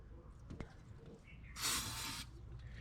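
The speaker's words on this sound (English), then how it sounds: "I get some silicone spray and I'll just shoot the hose a little bit." A single short burst of silicone spray onto a radiator hose hisses for under a second, close and sharp, amid quiet background noise and a faint clink.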